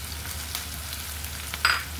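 Chopped tomato hits frying onions in a pan for katla fish dopiaza, giving a steady close sizzle with a brighter hiss burst near the end.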